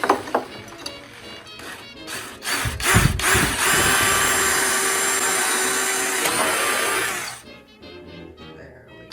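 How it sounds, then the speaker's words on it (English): A power drill bores holes for the legs of a 1950s mid-century modern TV cabinet, with a few short bursts and then a sustained loud whir that cuts off abruptly. "drill a hole in because the legs don't fit"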